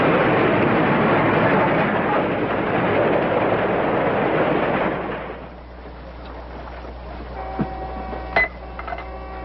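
A loud, dense rumble of a train rolling on rails fills the first five seconds, then drops away to a quieter interior with faint clicks and a brief tone.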